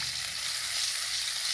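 Garlic ginger paste, about a tablespoon, sizzles in a frying pan as gravy chickpeas are started, giving a steady, close, dense hiss with no pauses and no voices.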